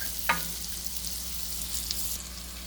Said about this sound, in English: Now I'm gonna nicely let the onions cook.